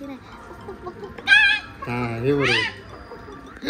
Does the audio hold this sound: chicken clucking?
yes